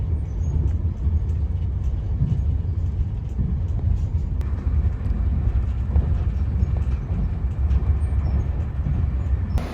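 A train sits at Dundalk railway station in Ireland, giving off a continuous low rumble and clatter with scattered knocks, and one sharp high click partway through, all at a fairly loud, even level.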